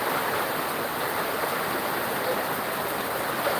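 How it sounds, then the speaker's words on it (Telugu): Heavy rain pours down while flood water rushes past in a village, forming a dense, continuous roar of water that stays close and steady, with no voices. "ఈరోజు అయితే వర్షం అయితే పడుతుంది చూడండి మన వరద అయితే కొనసాగుతుంది"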